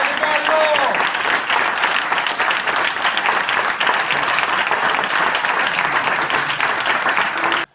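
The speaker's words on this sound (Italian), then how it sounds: "Quindi io farei un grande applauso" An award ceremony audience breaks into loud, sustained applause, dense clapping from many hands filling the room steadily for several seconds before stopping abruptly.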